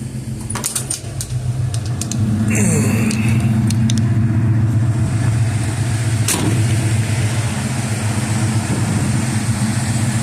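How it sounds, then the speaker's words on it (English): A Ford E-150 van engine, a swapped 351 Windsor V8, idles, then revs up and holds a loud, steady droning hum close by. "Revs up pretty good."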